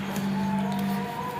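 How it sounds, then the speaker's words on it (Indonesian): The cooling fan inside a power amplifier runs with a constant, even whirring hum and a faint steady whine, close and unbroken for the whole short moment. "Ini suara kipas teman-teman."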